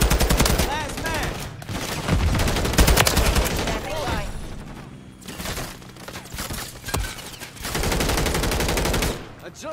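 Call of Duty Modern Warfare 3 multiplayer gunfire: loud bursts of rapid automatic shots in several clusters separated by short lulls, with game effects layered between the volleys.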